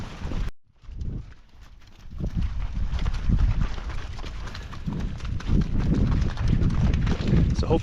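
A group of cattle, a calving herd on a winter farm, clumping out of a barn, with steady heavy hoofbeats and shuffling across the clip after a brief pause near the start, close and fairly loud.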